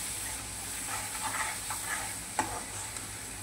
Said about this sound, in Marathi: मसाले पण असे छान परतून घ्यायचे